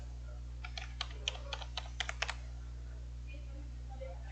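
Bursts of typing on a computer keyboard as a Wi-Fi network name and password are entered while configuring a Ubiquiti UniFi device, about a dozen quick close clicks over a steady electrical hum, then quiet.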